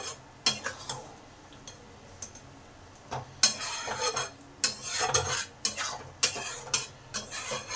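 A spoon stirs masoor lentils with sugar and garam masala in a cooking pot, scraping and clinking against the metal in irregular bursts, close and fairly loud, with no voices.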